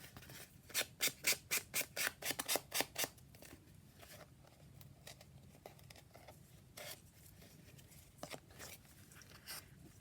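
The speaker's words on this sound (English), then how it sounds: "I'll just file off the top and then re-ink the edges." A file rasped across the top edge of a watercolour-paper art journal, with a quick run of about ten loud, rhythmic strokes up close, then sparse fainter scrapes and rubs in a quiet room.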